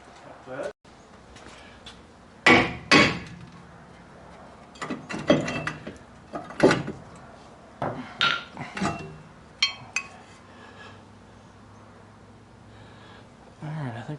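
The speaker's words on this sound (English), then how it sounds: "Alright, a hammer." A hammer strikes metal under a 2007 Impala during rear-end noise troubleshooting, giving scattered loud clanks and knocks in irregular bursts at close range, with quiet gaps and faint rattles between hits.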